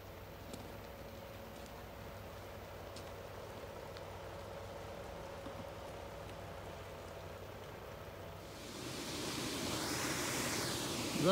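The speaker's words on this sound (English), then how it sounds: "Raining really lightly." Light rain falls outdoors by mountains, a soft, steady hiss of faint drops that swells into a louder rushing wash near the end.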